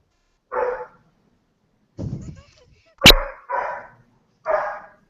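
A dog barks in several separate bursts spread across a few seconds, close and fairly loud, one sharp sudden crack among them, with quiet gaps between.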